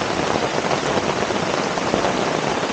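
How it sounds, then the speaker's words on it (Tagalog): Heavy rain pours down during a night of car camping, a dense, steady, loud wash of drops on surfaces with no voices. "Grabe, malakas yung ulan."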